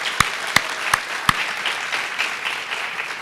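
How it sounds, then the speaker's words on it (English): A PTA Founders Day audience claps, opening with a few loud close handclaps at a steady beat, then settling into a softer, scattered round of applause from the room. "just one more round of applause for Katie and Susan and Michelle and Roxanne"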